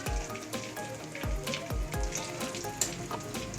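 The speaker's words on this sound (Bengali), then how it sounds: "এবার ওই তেলের মধ্যে আমি দিয়ে দেবো কটা জিরে ফোড়ন, আর দেবো দুটো তেজপাতা ফোড়ন" Cumin seeds and two bay leaves crackle and sizzle in hot frying oil, a dense, close spitting hiss with a few sharper pops, heard alone.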